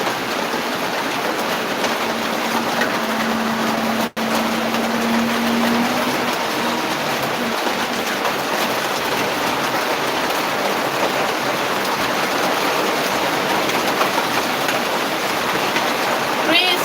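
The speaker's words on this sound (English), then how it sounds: "This is serious rain." Heavy rain pouring down in a steady, dense hiss that runs unbroken for the whole stretch, loud and close, with a faint low hum briefly near the start.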